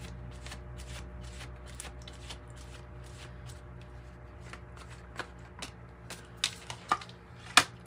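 Tarot cards are riffled and shuffled in a quiet room, a run of soft papery flicks followed by several sharper snaps and taps as cards are drawn and laid down.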